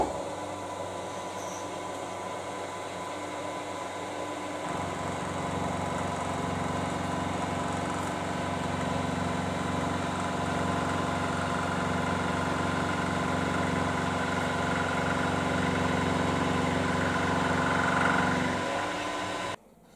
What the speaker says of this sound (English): So there I'm just putting a convex radius with a reflex cutter on that angled, on those two angled faces.